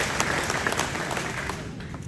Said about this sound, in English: Give a round of applause for Bob Roush.